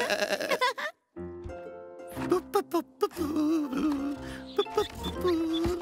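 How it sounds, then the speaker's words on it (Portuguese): Cartoon sheep bleating in a children's animated show, several short wavering bleats in a row over light background music, with brief gaps between calls. "Você é uma ovelha."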